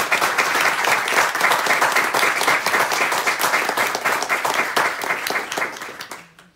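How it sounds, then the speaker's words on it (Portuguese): Sustained audience applause at the close of a literature lecture, a dense steady wash of many hands clapping together that fades out at the end. "poder ver o entusiasmo dos aplausos"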